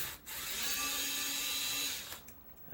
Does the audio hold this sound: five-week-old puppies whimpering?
no